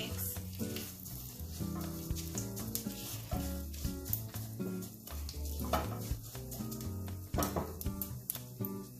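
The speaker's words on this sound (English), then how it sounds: "The sesame seed has started spluttering, so I'm going to add the muthiya now." Sesame seeds and curry leaves spluttering in hot oil on a gas flame at medium heat, a close continuous sizzle broken by sharp crackling pops and occasional clinks of a stirring spoon.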